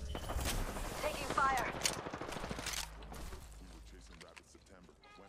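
Rapid video game gunfire bursts crackle over a squad game's callouts and ambient effects, loud at first and thinning out, with a voice speaking throughout.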